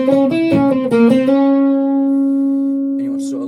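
An electric guitar plays a short, loud, close riff from a song, several quick picked notes before a final note rings out and slowly decays, with a brief sound at the end.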